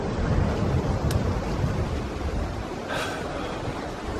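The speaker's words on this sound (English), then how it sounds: "The sea is right here with the waves crashing." Broadband surf from sea waves breaking on an Icelandic eastern fjord shore, a steady near rush with a swell near the end, plus wind on the microphone and a waterfall close by.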